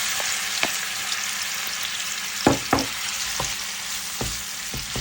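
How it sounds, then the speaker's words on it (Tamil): Shrimp sauté in hot oil for shrimp fried rice, a steady close sizzle punctuated by several sharp spatula knocks and scrapes, two of them louder in the middle. "முதல்ல வந்து நாங்கள் இறாலை வந்து வதக்கி எடுத்துக்கொள்ள போகிறோம்"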